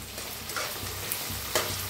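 Potatoes roast and get stirred in a hot pan while cooking crispy poha, a close steady sizzle broken by scraping spatula strokes and a sharper clatter near the end, quiet overall with no talking.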